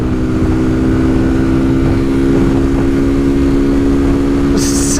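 A Kawasaki Z125 Pro motorcycle runs flat out on a top speed run, its engine a loud, steady, close drone with wind rush and little change in pitch.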